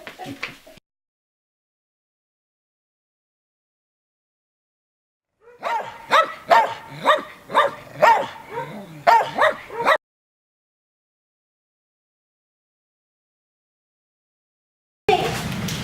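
A small dog barks in a quick run of sharp yips and woofs, close and fairly loud, bracketed by long silences with brief bursts of other sound at the start and end.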